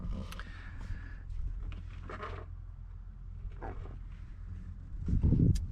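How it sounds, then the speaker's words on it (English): A 1987 Dodge Ramcharger with a 360 engine idles through a straight pipe exhaust, giving a steady low rumble that swells toward the end. Scattered faint knocks and rustles sit on top of it. "what you're looking at is the 360 with the straight pipe, and it sounds great"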